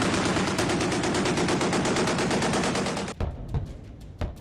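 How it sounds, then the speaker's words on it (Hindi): Rapid automatic fire from the guns of China's Type 055 Nanjing destroyer, a loud continuous hammering burst for about three seconds, then a few separate shots and fading echoes. "दनादन निकलती गोलियां"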